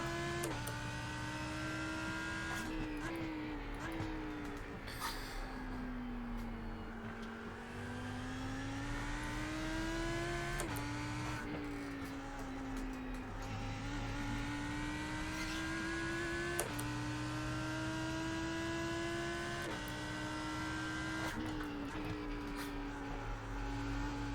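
A Lamborghini race car engine at Spa in the iRacing game drones continuously, its pitch rising and falling as the car accelerates and brakes, with occasional shifts and no talk over it.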